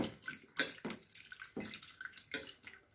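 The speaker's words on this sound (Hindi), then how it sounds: "अब आलू को पानी में डालकर धो लेते हैं" Cut raw potatoes being washed in water, with repeated soft sloshing splashes and swirling water in irregular bursts, close and fairly quiet, with no talking.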